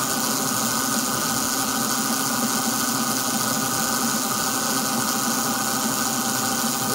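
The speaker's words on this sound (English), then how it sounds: "The only noise you hear is coming from the chain." Chain drive of a running 15 kW Alpha PMG permanent-magnet generator: a steady, even mechanical whir and hum with no change in rhythm, moderately loud and close, with no voices.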